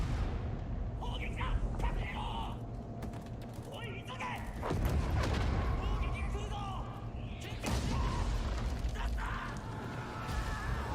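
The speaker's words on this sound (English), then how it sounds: "More bullets, more explosions, more fighting." Dense bursts of game gunfire and heavy explosions crash repeatedly over a busy battle soundscape, with booming impacts near the middle and again later.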